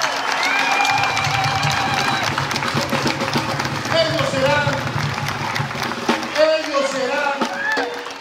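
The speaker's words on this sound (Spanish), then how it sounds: "quiero que se pongan de pie para que su gente les dé el mayor de los aplausos" Crowd at a municipal campaign event with presidential candidates applauds and cheers for the candidates, a steady dense roar of clapping with shouts, and voices talk over it throughout.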